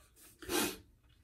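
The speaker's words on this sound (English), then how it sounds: "I had a sneeze there." A single sharp sneeze bursts out close by after a short intake of breath, then fades into quiet room tone.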